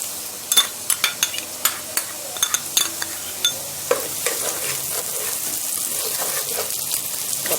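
Tomato paste sautéing in a pot for a noodle and potato soup: a spoon clinks and scrapes against the pot in quick strokes at first, then a steady, close sizzle with softer stirring continues.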